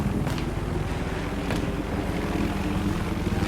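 A helicopter in a Battlefield-style video game, a continuous, moderately loud rotor and engine drone with a low throbbing texture and occasional brief bursts over it.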